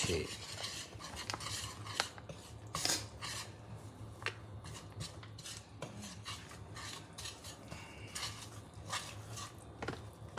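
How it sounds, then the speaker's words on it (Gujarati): Millet flour being worked slowly into melted jaggery and ghee in a pan, heard as a continuous run of faint scraping and clinking spoon strokes against the metal, steady and close with no voices. "બાજરીનો લોટ આ રીતે ધીરે ધીરે ભેળવી દેવાનો"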